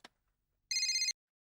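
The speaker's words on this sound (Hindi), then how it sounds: "जीजा जी का अभी फोन?" A telephone gives a single short burst of bright electronic trilling ring, close and clear, with a faint click just before and silence around it.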